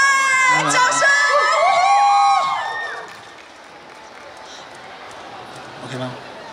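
A live-show audience at a stage performance cheers, whoops and claps loudly for about two seconds, then the noise falls away to a low murmur with a small burst near the end.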